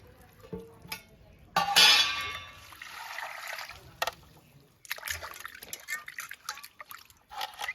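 Bata fish being washed under running water in a home kitchen, with a trickling, splashing stream and small clangs of a pot or bowl, loudest in the first half, then quieter handling sounds.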